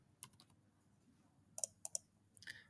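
A computer keyboard being typed on while entering a spreadsheet formula: sparse, quiet, close key clicks in small clusters separated by pauses, with a low background hum and no speech.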